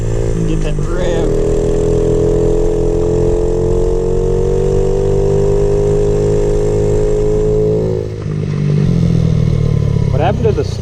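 A warmed-up Honda XR50 motorcycle engine runs close and loud, its steady droning note climbing slightly as it revs, then dropping and shifting near the end, with voices in the background.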